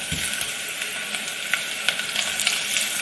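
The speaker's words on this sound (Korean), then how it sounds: "먼저 올리브유를 3스푼 정도 넣어주시고 열이 올라왔으면 약불에 마늘 6, 7개 정도 편썰어서 마늘기름 내줄게요" Sliced garlic frying in olive oil over low heat, a steady close sizzle with a soft, even crackle throughout.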